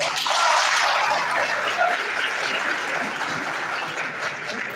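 Audience applause at a graduate induction and oath-taking ceremony at a university teaching hospital, steady dense clapping from a large crowd throughout, loud and filling the hall, slowly tapering toward the end.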